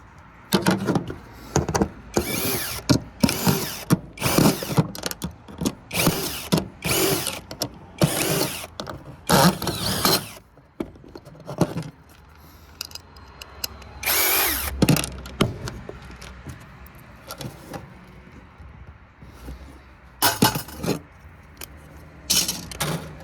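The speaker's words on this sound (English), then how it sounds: "It's also nice to have multiple drills, that way you don't have to keep changing bits out" Power drill boring through scrap aluminum breakage, in repeated short bursts of whining drilling separated by pauses and clanks of metal being handled, fairly close and loud, with no talking.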